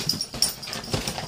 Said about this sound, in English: My dog has seriously lost her mind, guys.